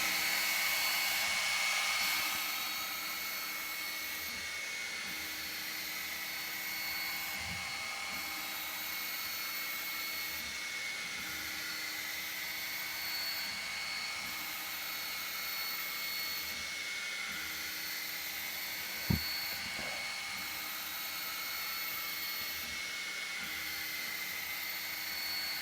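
A cheap laser engraver running a burn, giving a steady faint whine and fan hum with a repeating rhythmic pattern as the head moves back and forth, one brief click partway through, and no talk.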